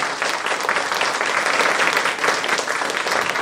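An audience at a satsang gathering in Bhavnagar applauds loudly and continuously, close and dense hand clapping filling the hall throughout.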